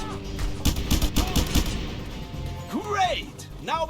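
Pistol shots in a video game: a quick rhythmic string of about six sharp reports in the first half, followed by whooshing, sweeping effects. The firing is close and prominent.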